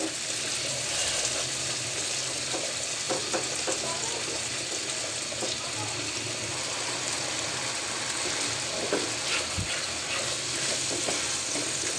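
Dried chepa shutki fish simmering in a pan with a little water, a steady wet sizzle and bubbling hiss, with occasional light stirring clicks and scrapes.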